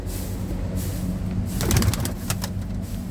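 Low, throaty pigeon coos repeat against a steady background rumble, with a brief burst of rustling or flapping partway through.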